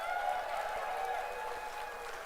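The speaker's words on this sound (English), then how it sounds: "Big round of applause." Steady, sustained applause from a gala audience honoring staff, a dense even patter of many hands clapping that holds at a constant level throughout, with no voices rising above it.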